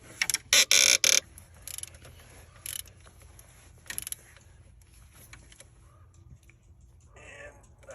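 Wrench work tightening alternator bolts on a 2002 Jeep Liberty: a burst of quick ratcheting clicks up close, then a few scattered short ratchet and metal clicks against quiet background.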